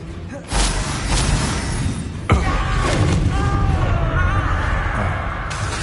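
A Confringo explosive spell goes off in Hogwarts Legacy: a heavy booming blast at the start, then a second sharp thud, followed by sustained roaring spell effects and rumble.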